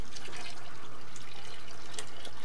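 Water is drained from a home fish aquarium during a partial water change, giving a continuous close splashing and gurgling trickle with scattered drips and bubbly bursts.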